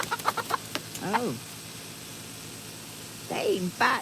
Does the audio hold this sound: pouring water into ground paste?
no